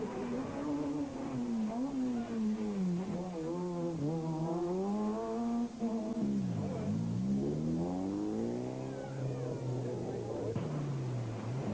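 An Opel Kadett GSI rally car revs and accelerates steadily during a 1990 rally at Spa, its engine pitch climbing and falling through the gears in a continuous, moderately loud drone.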